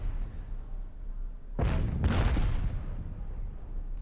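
Artillery fire in the card game KARDS: two sharp, close blasts a half second apart, the second ringing out into a rumbling decay over low background noise.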